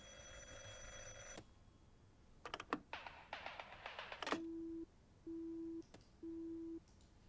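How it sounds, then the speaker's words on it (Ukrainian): A telephone in the driving video game Drive Beyond Horizons gives a sustained electronic ring, then a few clicks and handling noises, then three evenly spaced low beeps, clear and close with no talking. "Ми перший раз з вами відповіли на телефонний дзвінок"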